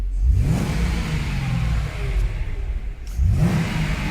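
A vintage Mercedes with 165,000 miles revs up, settles to a steady idle, then revs again, loud and close with no talk.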